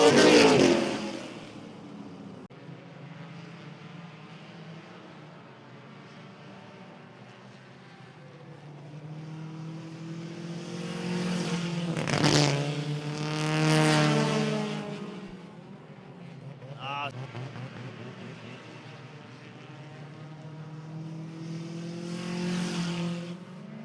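Race cars at Jefferson Speedway roar past in a pack, the engine drone swelling and fading as they pass and the pitch sweeping downward, with a loud peak midway and a further pass near the end.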